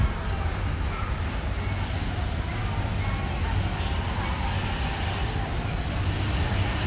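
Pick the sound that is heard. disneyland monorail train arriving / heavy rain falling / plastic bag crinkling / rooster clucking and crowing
disneyland monorail train arriving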